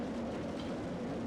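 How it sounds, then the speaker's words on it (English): Roller coaster train in Roller Coaster Tycoon 3 rumbling along its track, a steady, loud, close rolling roar with clattering texture throughout, no pauses and no talk. "The train's so loud."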